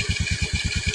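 A motorcycle engine idles close by while it is checked before a trip, its steady low rhythmic thumping pulsing evenly with no talk over it.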